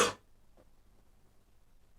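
A single sharp cough up close, then near silence with a faint click and another short burst at the very end.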